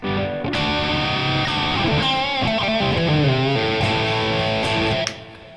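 A Kramer electric guitar with coil split engaged plays sustained, heavily distorted chords and note bends, loud and close, ringing out before cutting off.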